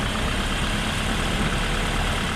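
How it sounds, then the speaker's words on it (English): Land Rover Defender engine idling during off-road driving with anti-stall raising revs, a steady low, rough drone heard alone and fairly close. "Even when you've got the clutch engaged and you're hardly moving, it just gives a bit more revs to the engine"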